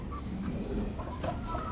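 A dark-legged gamefowl stag from a game farm clucks softly a few times at close range, short low calls over a steady background hum with no talking.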